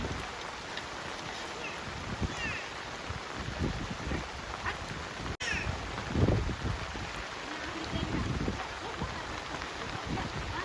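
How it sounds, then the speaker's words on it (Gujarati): Rain falls on a farm field in gusty bursts, a steady hiss of drops with wind buffeting the microphone and occasional louder surges. "એમ વરસાદ આવે છે ઝાપટે ઝાપટે અત્યારે જો પાછો થોડોક વધ્યો છે"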